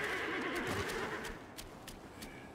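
A half-man, half-horse creature in the video game Black Myth: Wukong lets out a loud, wavering neigh that fades into softer snorts and thudding hoof steps, with no talking.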